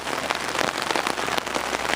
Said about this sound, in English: You're out here in the rain.